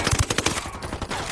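A rapid burst of automatic gunfire from the video game Ghost Recon Wildlands, a quick series of close, punchy shots.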